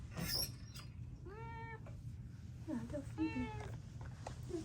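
Two clear meows from a domestic cat named Phoebe at a cat hotel, close and distinct, heard over steady low background rumble with a person talking nearby.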